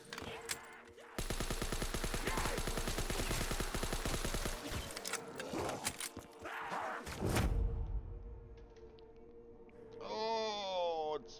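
Rapid automatic gunfire from a custom zombies map in a video game, a dense sustained burst of several seconds followed by scattered thumps and game effects, with a voice talking over parts of it.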